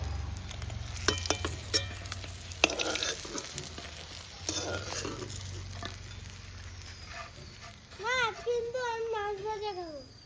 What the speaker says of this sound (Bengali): মাছগুলো ভাজা হয়ে গেছে, আমি তুলে নিচ্ছি।